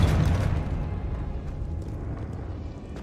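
Confringo fire spell explosion in Hogwarts Legacy, a loud close burst followed by a long rumbling, crackling decay that fades gradually, with no talk.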